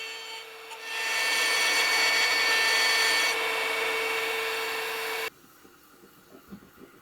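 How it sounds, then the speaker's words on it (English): A milling machine smooths the sprue of a beer stein with a loud, steady, high grinding whine that holds for about four seconds and then cuts off abruptly, leaving faint workshop noise. "On the machine, the sprue is milled smooth and then polished clean."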